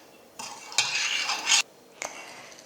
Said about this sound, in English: Give this a quick mix and allow this to boil until all the sugar has